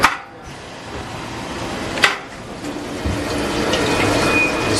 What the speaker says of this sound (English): we'll open our spouts into the drain pan